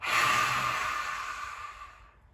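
A long, forceful exhale breathed out through an open mouth like a roar during a yoga breathing exercise, loud and close, trailing off gradually at the end.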